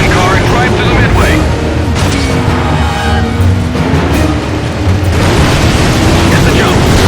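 Loud booming explosion rumble in the Stuntman Ignition driving game, a sustained roar with sweeping pitch layers and engine noise mixed in, lasting several seconds.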